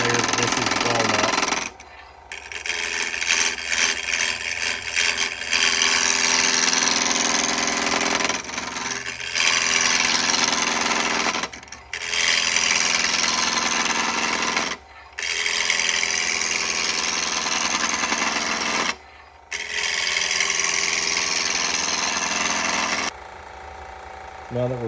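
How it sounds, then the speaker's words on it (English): A wood lathe spinning a walnut blank at just under 1300 RPM while a spindle roughing gouge cuts, a loud continuous chattering roar broken by several short pauses as the tool is withdrawn. "I'm just below 1300 RPM to start with this spindle roughing gouge"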